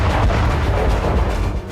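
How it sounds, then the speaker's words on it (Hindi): Explosions at a Russian base after a drone strike in the Russia-Ukraine war: a loud, heavy, continuous rumbling boom that stays thick throughout and eases off slightly at the end. "हमले के बाद कई धमाके हुए"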